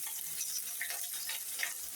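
Small tengra fish frying in hot oil, a steady, even sizzle with soft crackling pops, close and continuous, with no talk.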